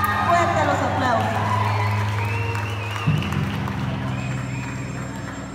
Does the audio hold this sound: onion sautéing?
no